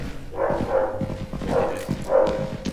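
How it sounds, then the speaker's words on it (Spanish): Strange-sounding dog in the Content Warning video game barking in three short, odd, tonal yelps spaced about a second apart, moderately loud with no talk over them. "Ese perro suena muy raro"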